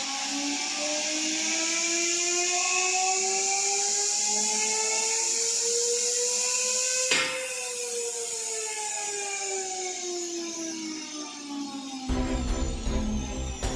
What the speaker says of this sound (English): Now the machines start running. The RPM will get more and more big.